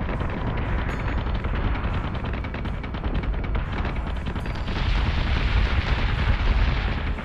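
Dense, continuous spaceship gunfire and artillery barrages roar through a space battle in Battlestar Galactica Deadlock, a loud rumbling wall of rapid booms that swells louder in the second half.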